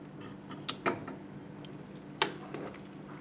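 Shallots and bird's eye chilies being stirred into a pot of pork bone soup: a soft bubbling bed with a few sharp clinks of the spoon against the pot, spaced irregularly and fairly quiet.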